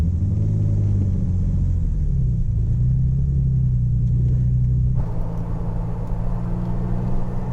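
A 1972 BMW 3.0 CSL classic car on the road, its engine a loud, steady rumbling drone that shifts pitch as it pulls along, with no talking.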